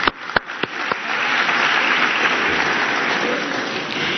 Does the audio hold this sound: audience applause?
yes